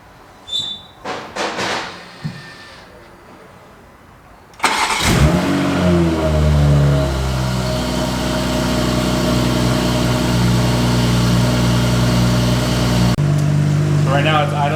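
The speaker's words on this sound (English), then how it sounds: "Right now it's idling, let it warm up a minute" A Toyota Supra engine with a newly installed downpipe fires up after some brief clattering, then settles into a steady, loud idle with a deep, even rumble that continues to the end.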